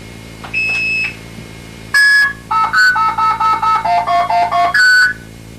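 Telephone blue box phreaking tones sent down a phone line: a short burst of steady beeps, then a quick run of two-tone pulses in a clear rhythm, loud and alone.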